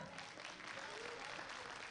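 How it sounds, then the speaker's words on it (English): An audience at a powerlifting nationals competition in Killeen, Texas claps in a steady, dense wash of applause, fairly faint and distant in the venue, with voices faintly mixed in. "Big round of applause"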